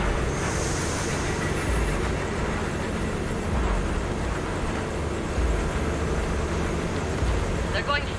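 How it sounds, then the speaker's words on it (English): Heavy train rumble in Cyberpunk 2077, a steady loud low roar of a moving train carrying through the whole stretch, with a rising hiss near the start. "There's our train."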